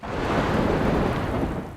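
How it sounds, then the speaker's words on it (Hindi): Steady, dense rain with gusting wind and a low thunder rumble beneath, continuous and fairly loud throughout with no voices. "कितना अच्छा मौसम है, हवाएं चल रही है, बारिश हो रही है।"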